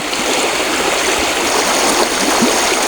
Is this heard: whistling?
no